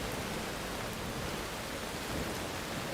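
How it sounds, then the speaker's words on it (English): Heavy rain pours steadily in the video game Skyrim, a dense and even hiss of falling water that holds the same level throughout with no speech. "Oh, it's raining."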